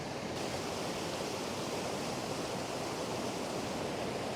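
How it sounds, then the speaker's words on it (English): White-water rapids at Crooked Creek waterfall in New Brunswick rush in a dense, steady, broadband roar, close and unbroken for the whole stretch with no voices. "there's some really cool rapids"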